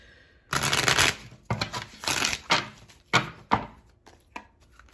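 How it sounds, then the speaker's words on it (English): Tarot cards are shuffled in a series of quick riffling bursts, loud and close, tapering into softer taps. "One more shuffle."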